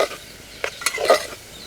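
Green chillies and onions sizzle softly in a pan for a chicken pulao, with faint frying hiss and a few brief stirring scrapes and clinks of a spoon against the pan.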